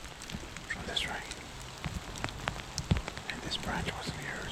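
Rain falls steadily through woods beside a swollen, fast-running creek, making a constant soft hiss with scattered, sharper drop taps close by and no one speaking.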